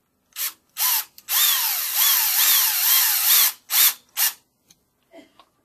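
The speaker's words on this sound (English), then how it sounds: "I'm going to screw this directly into the flat part of the extending piece." A cordless drill drives a #8 by 1/2 inch screw into the flat part of a roller tube extension, with short trigger bursts, a longer run whose whine rises and falls, then more quick bursts, close up.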